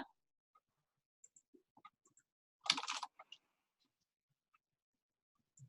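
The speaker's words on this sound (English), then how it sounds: "So now if I type in Bob" Faint, sparse keystrokes on a computer keyboard in a quiet room, with a short burst of quicker clicking partway through.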